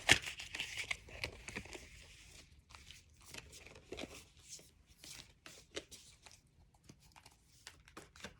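A Light Seers tarot deck is shuffled up close in quiet bursts, the cards giving soft papery riffles and crinkly slides with short pauses between handfuls, faint overall.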